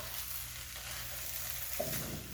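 Stuffed pepper filling with extra sauce being mixed in a pan, giving a faint, even sizzle with soft stirring and no voices.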